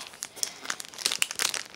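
A Pokemon Breakthrough card pack's plastic wrapper crinkles and crackles in a dense run of close, sharp bursts that grows busier toward the end as someone struggles to tear it open.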